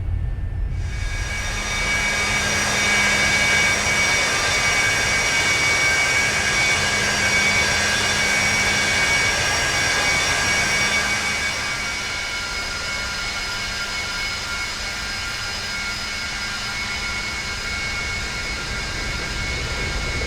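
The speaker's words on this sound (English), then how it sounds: "We are going to attempt to land this medium-sized business jet, really, here." Engines of a Cessna Citation business jet in the X-Plane 11 flight simulator, on a landing attempt, give a loud, steady roar with a whining hum throughout, easing slightly in level partway through.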